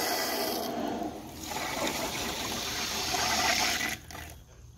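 Water rushes steadily through a Husqvarna PW 2300 pressure washer as the supply is turned on, a loud, continuous hiss that swells, then drops off abruptly near the end.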